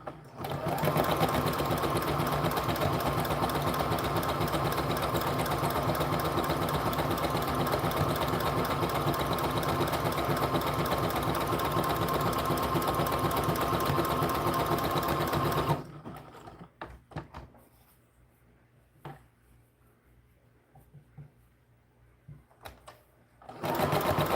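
A sewing machine stitching American Girl doll clothes, sewing a skirt, runs loud and steady for about sixteen seconds, stops to near silence with faint handling noises, then starts again at the very end.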